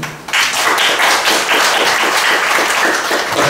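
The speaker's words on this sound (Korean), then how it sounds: "큰 박수로 맞아주시기 바랍니다." An audience bursts into loud, dense applause to welcome Dr. Park before his special lecture on immunity and healing, sustained clapping from many hands after a brief quiet start.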